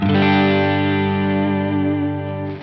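A sustained electric guitar chord through a booster pedal rings out loud and slightly driven, holding steady for a couple of seconds before a fresh attack near the end.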